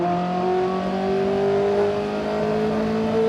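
From inside a Formula 1 car on the move, the engine holds a loud, close, steady droning whine with strong tonal layers and slight swells in pitch.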